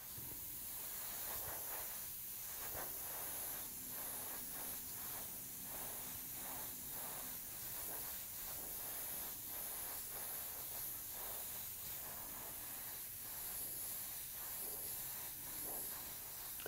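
Airbrush spraying black pearl Createx paint, thinned with 411 reducer and balancing clear, onto a scale model motorbike: a soft, continuous hiss broken into repeated short light passes.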